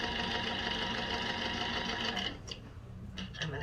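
Sewing machine stitching pinwheel quilt block triangles together, a steady close whirring run for a couple of seconds that then stops, leaving faint handling noises.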